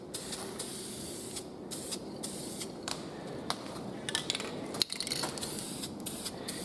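Steady hiss of a spray can or paint gun coating a truck, continuous and fairly close with a few small clicks and knocks, no talking.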